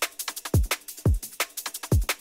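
A dry drum loop built from a sampled song, with deep booming kick hits about every half second and crisp, bright snare and hat strikes between them, loud and unprocessed.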